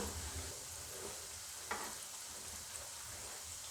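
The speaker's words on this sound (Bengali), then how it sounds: "একটু ভালো করে ভেজে নিতে হবে বেশ সুন্দর একটু কড়া কড়া করে" Goja dough frying in hot oil, a steady close sizzle and crackle that runs unbroken throughout, with one brief sharper pop partway through.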